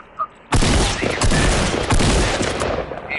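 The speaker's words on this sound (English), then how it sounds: "Somebody's shooting, dude." A burst of video game gunfire starts abruptly and rattles on in rapid, closely spaced shots for a few seconds, loud and up close, then tails off at the end.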